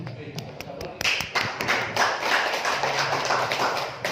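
After a quiet moment, an audience at a school presentation breaks into applause, with scattered claps building into a full, steady round.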